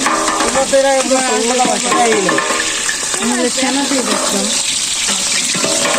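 Food frying and being stirred in a large cooking pot at an outdoor picnic, a steady sizzle with scraping stir sounds, while several people talk and call out over it nearby.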